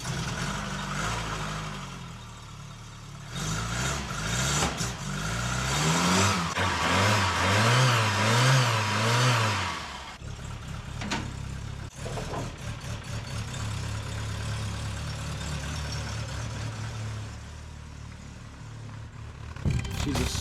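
An old Mk3 car fitted with a new battery, unrun for a while, cranks over, catches and revs up in a few rising bursts, then settles into a rough, steady idle close by with no voices.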